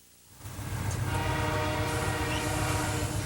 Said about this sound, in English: a 10-car Canadian Pacific train wrapped in lights goes past, then stops